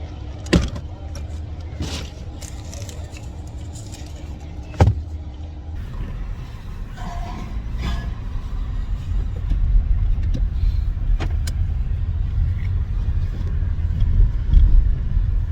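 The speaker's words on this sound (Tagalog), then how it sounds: "Here we go, we're on the traffic again." A car rolls through road traffic with a steady low engine and tyre rumble that grows slightly louder over time, broken by a few sharp clicks and knocks inside the cabin.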